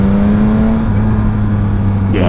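Yamaha XSR900 motorcycle accelerating, a loud steady engine tone rising slightly in pitch, recorded close with wind noise, ending with a sharper rise in revs.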